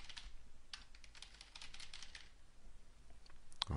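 Keys clatter steadily on a computer keyboard as an email message is typed into Outlook Express, a close run of quick irregular clicks with brief pauses and no talk.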